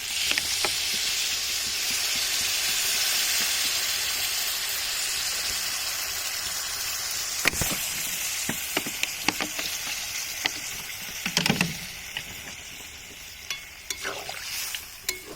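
Water poured into a pan of meat curry that has been fried until the oil separates, bursting into a loud steady sizzle and hiss that slowly settles, broken by stirring clatters and scrapes.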